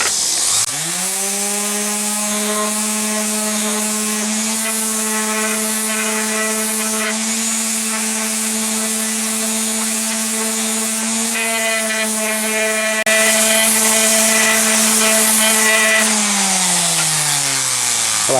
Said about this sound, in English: since I'm on a time schedule and I have an orbital sander, we're gonna go ahead and use this